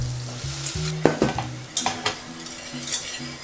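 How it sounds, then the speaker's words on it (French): Butter and flour roux for béchamel cooks with a gentle sizzle while a utensil scrapes and taps the pan in irregular strokes, close and clear, with a low humming tone underneath; no talking. "on laisse cuire le roux quelques instants afin d'éviter d'avoir le goût de farine dans la béchamel"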